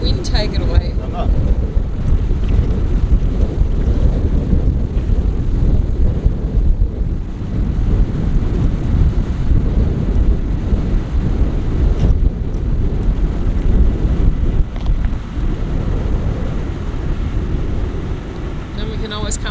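Strong outdoor wind buffets the microphone in continuous low rumbling gusts beside a trough being cleared with apple cider vinegar, while people talk throughout.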